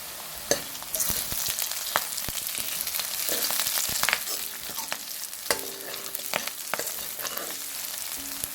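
A bitter gourd curry base fries with curry leaves in a pan while being stirred, a bright continuous sizzle punctuated by repeated scraping and tapping strokes of the spoon.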